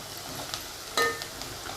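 Onion and asafoetida sauté in a pan for tomato saar, a faint, steady sizzle with a single light clink of a utensil partway through.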